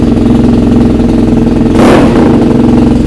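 A BMW R90 boxer motorcycle with an aftermarket exhaust idling loud and close with a steady throb, then a quick blip of revving in the middle before settling back to idle.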